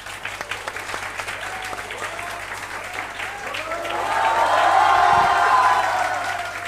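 An audience claps steadily throughout at a student revision lecture, the applause swelling louder toward the middle before easing slightly, with no voices over it.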